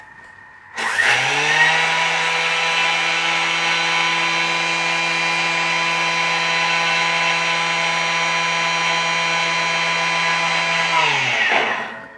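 A Thermomix spins at speed 10, grinding sugar into icing sugar: a steady, loud high-pitched whirring drone that starts abruptly, holds evenly for about ten seconds, then winds down.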